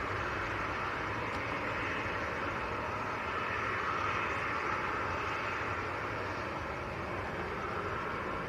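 A Jet2 Boeing 737 without winglets at Manchester Airport produces a continuous broad jet engine roar, steady and moderately distant, lasting the whole stretch.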